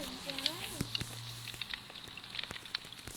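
Close, steady crackling and popping of a burning fire, with faint voices in the background.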